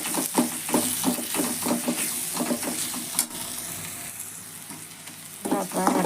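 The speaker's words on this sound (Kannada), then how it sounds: "ಎಲ್ಲ ಫ್ರೈ ಮಾಡೋಣ ಇದನ್ನು" Peas masala fries in hot oil, with close, loud sizzling broken by a run of rhythmic spoon-stirring scrapes, then a quieter hiss before stirring picks up again.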